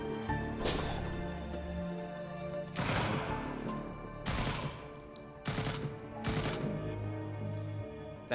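Auto rifle fire in the sci-fi game Jupiter Hell, heard as several loud, distinct bursts of rapid shots separated by short pauses over a steady background hum.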